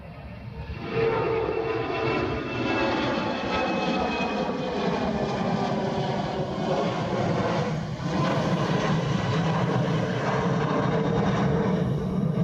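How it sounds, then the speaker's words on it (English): A tanker aircraft taxis out toward the reef runway at Honolulu airport, its engines holding a loud, continuous roar and whine that stays steady throughout. "we're getting a tanker heading out to the reef runway"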